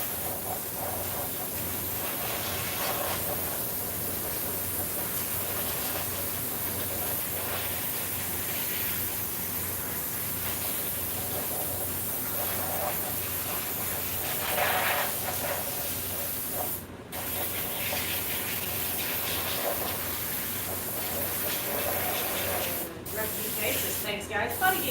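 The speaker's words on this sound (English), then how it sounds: "You just spray it on." Paint hisses steadily from a spray can over a mold, a long continuous spray with brief pauses near the end.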